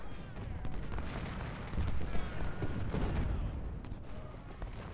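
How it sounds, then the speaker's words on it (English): Artillery batteries firing on a Civil War battlefield in the strategy game Ultimate General: Civil War, a dense, continuous rumble of booming cannon and scattered gunfire with no clear gaps, loud and steady throughout. "Imboden's artillery and Pelham's artillery. Both doing good work."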